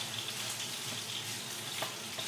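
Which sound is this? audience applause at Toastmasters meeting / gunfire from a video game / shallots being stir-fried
shallots being stir-fried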